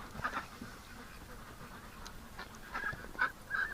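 Ducks at a backyard winter pen giving a few soft, short quacks and honks, faint and spaced out, with quiet rustling around them.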